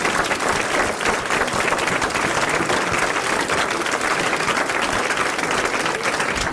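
A studio audience at a 1981 French television show bursts into loud, dense applause welcoming the comedian Marianne Sergent, continuous clapping throughout without a break.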